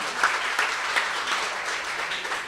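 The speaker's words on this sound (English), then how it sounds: "another big round of applause" A crowd at a music program's closing gives a big round of applause, a thick continuous wash of clapping at steady volume throughout.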